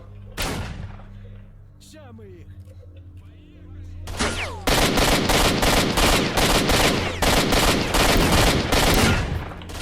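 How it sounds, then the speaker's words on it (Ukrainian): A machine gun fires in the video game S.T.A.L.K.E.R.: Shadow of Chernobyl, first a lone shot and a few scattered rounds, then loud rapid sustained bursts in close succession, with faint voices at moments. "щось кулемет взагалі не валить"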